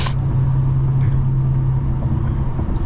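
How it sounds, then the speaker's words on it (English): A loud, steady engine rumble from a heavy truck close by, holding for several seconds without letting up. "sorry, the truck loud"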